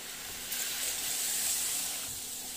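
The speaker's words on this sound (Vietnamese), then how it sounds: "Bỏ cá vô mình chiên này." Mackerel scad sizzles in hot oil thickened with a little rice flour, a steady, moderately loud hiss that swells slightly as the fish goes into the pan, with no talk.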